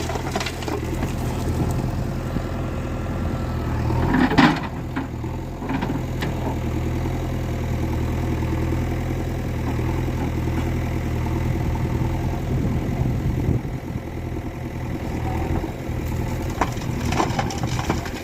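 A JCB excavator engine runs at a work site where tractors are loaded, producing a steady mid-pitched drone throughout with occasional clanks and crunches of material, fairly loud and without speech.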